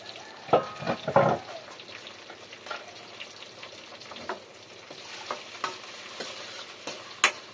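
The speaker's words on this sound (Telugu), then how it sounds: "వేసుకుని అయితే మంచిగా ఫ్రై చేసుకుంటున్నాను నేను" Tomato pieces frying in a pan, with a soft steady sizzle broken by clattering stirs and scrapes of a utensil, fairly close and quiet with no talking.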